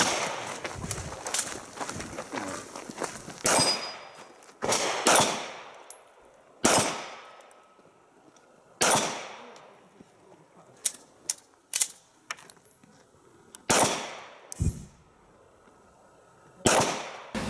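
Eight gunshots ring out at a shooting competition, sharp separate reports spaced a second or two apart with a longer break near the middle from a malfunction, set against faint outdoor background noise.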